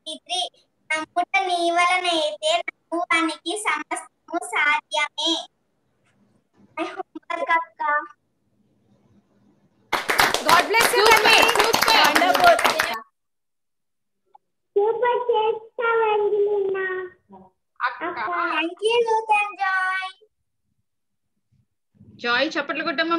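Children clapping during a children's club lesson: a dense burst of rapid clapping lasting about three seconds, set between stretches of children and an adult talking.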